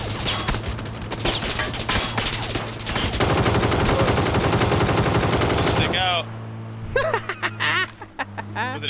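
Rapid gunfire crackles in the battle royale game PUBG, sustained bursts of automatic shots loud and close, followed by sharper scattered single shots, with a voice talking over part of it.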